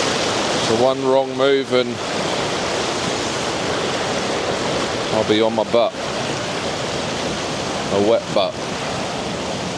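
Heavy sea water surging and crashing over slippery coastal rocks makes a constant loud roar of surf throughout, while a person talks in short bursts over the churning wash.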